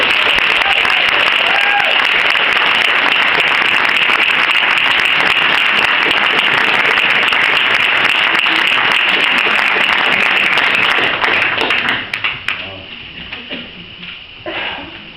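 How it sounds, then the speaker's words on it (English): Sustained, dense applause from an audience welcoming illustrator P.J. Lynch to the podium at his exhibition opening in the Lexicon Library, Dún Laoghaire, loud and steady for about twelve seconds before thinning into scattered claps and fading. "please give a round of applause and welcome to the podium"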